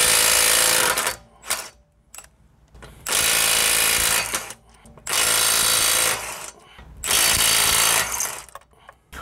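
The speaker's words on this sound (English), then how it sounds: "Now, I have an impact wrench, so this will work just as well as if I would have loosened the lug nuts on the ground." An air impact wrench loosens the rusty lug nuts on a Honda Civic's wheel, firing in four loud, sustained hammering bursts separated by short pauses, up close with no talking.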